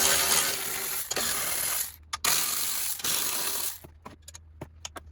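A ratchet socket wrench clicks rapidly while loosening a 13 mm bracket bolt on a 2009 BMW X5 3.0, working in two long close bursts and then giving a few sparse clicks.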